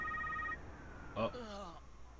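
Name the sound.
phone ringing in a video game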